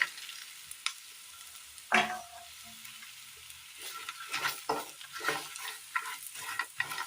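Fried ridge gourd is stirred into sautéed onions and pepper powder in a frying pan, giving a run of soft scraping and turning noises over a light oil sizzle, with a few sharper spatula knocks along the way.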